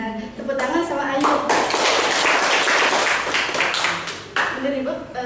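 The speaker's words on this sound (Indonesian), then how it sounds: "Nah, tepuk tangan sama Ayu." Eighth-grade students in a madrasah Qur'an lesson clap their hands together for a classmate, a loud, dense burst of group clapping lasting about three seconds, with a teacher's voice before and after.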